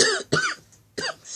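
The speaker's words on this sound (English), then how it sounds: "I'll keep coughing." A man coughs three times in quick succession, harsh and close, with short pauses between the bursts and no speech around them.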